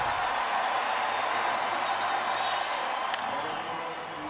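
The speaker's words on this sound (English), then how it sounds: "And now the crowd gets into it." A baseball stadium crowd at the Home Run Derby in Colorado keeps up a steady, broad roar of cheering and clapping, while a commentator talks over it.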